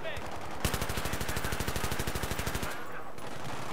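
Automatic weapon fire in the Battlefield 3 shooter game, a rapid, evenly spaced burst of loud shots lasting about two seconds, followed by a short decaying echo.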